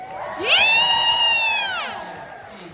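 A comedy club audience cheers and whoops loudly, with a sustained rising shout carrying over the noise before it gradually fades.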